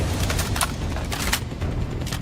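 Rapid ballistic bursts from an LMG in the space game Star Citizen, a dense run of loud overlapping shots with a mechanical bolt action, continuous and close for the whole stretch.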